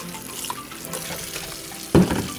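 Tap water runs into a kitchen sink while apples are washed, a steady gentle stream that swells with a louder splash near the end.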